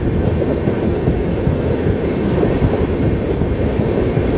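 A passenger train pulls out of Arakkonam station with a loud, continuous rolling rumble of wheels and carriages heard close up, steady throughout.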